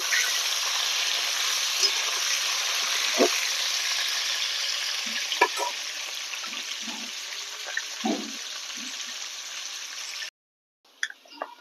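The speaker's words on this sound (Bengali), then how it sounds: "লবণ দিয়ে আমি আলুটাকে 4-5 মিনিট ভাজবো।" Salted potatoes frying in oil give a continuous, fairly loud sizzle with scattered stirring knocks. The sound cuts out briefly near the end, then a few clicks follow.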